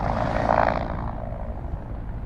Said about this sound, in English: this is the Park Police helicopter doing their pre-landing scouting mission